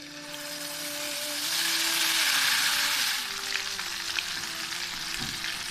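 Mutton pieces sizzle loudly as they hit hot oil seasoned with black peppercorns and small green cardamom, a steady broadband fry that swells, then settles into continuous crackling with light stirring.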